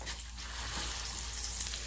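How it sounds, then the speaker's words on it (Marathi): Ground masala paste sautéing in oil for mutton rassa, a soft continuous sizzle and crackle close by, steady throughout with no voice. "वाटण व्यवस्थित परतून घ्यायचं."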